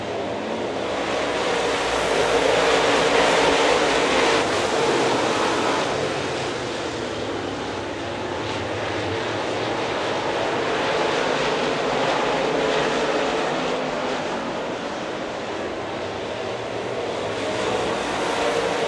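Race cars roar down the back straightaway at Dixie Speedway in a loud, continuous engine drone that swells and fades slightly as the pack passes.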